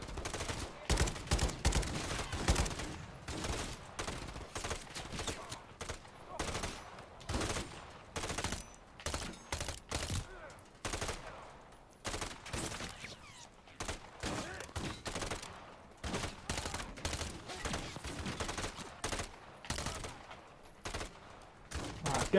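Sustained gunfire with armor-piercing rounds in Call of Duty: Modern Warfare 3 on the Highrise mission, dense rapid bursts and shots continuing throughout, loud and close with constant battle noise.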